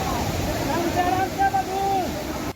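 Fast, rushing floodwater during a rescue operation, where a man crosses the current holding a rope, makes a loud, continuous broadband roar, with a voice speaking over it throughout.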